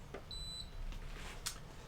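A Lavazza Classy Plus espresso machine gives a single short thin electronic beep while being switched on, faint over a low room hum, followed by a couple of soft clicks.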